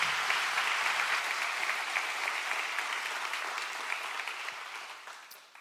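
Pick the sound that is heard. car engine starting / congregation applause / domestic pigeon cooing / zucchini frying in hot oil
congregation applause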